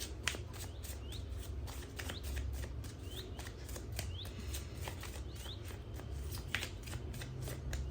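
Tarot deck shuffled steadily by hand, a continuous run of close, crisp card slaps and flicks repeating every fraction of a second over a low steady background hum.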